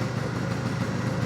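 A vintage 1979 Vespa P200E scooter engine idles steadily after a brief choke, a continuous low buzzing putter at close range with no voices over it.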